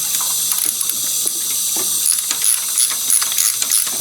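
A ratchet with a special socket clicks rapidly in short bursts while loosening a gauge sender on an engine, close and crisp against a faint hiss.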